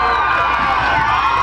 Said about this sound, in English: All kinds of screaming across the way there.